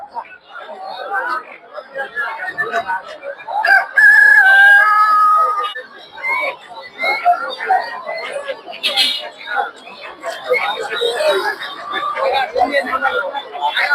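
Chickens cluck and a rooster crows amid busy crowd chatter and close talking at a poultry market in Tongi, Bangladesh, a noisy outdoor bustle throughout.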